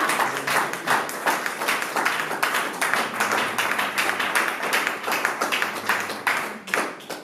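A church congregation claps in a steady, dense rhythm for about seven seconds, loud and close, with the sound bunching into beats as though the people are clapping in time during worship.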